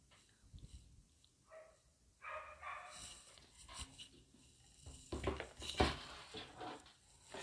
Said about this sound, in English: That seems to be some neighbors' dogs that are just barking around.